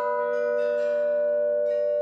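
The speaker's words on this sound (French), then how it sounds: "Et les taquets vont actionner les battants extérieurs des cloches." Carillon bells in an old French church tower, struck by a pinned-cylinder mechanism like a music box, give sustained, resonant, fairly faint tones with a soft new strike near the end.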